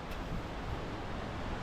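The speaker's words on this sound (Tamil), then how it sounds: "இந்த தண்ணி போகிற சத்தம் சூப்பராக கேட்குது" The Ganges River at Rishikesh rushes past in a continuous broad roar of flowing water, close and steady, mixed with some wind buffeting the microphone.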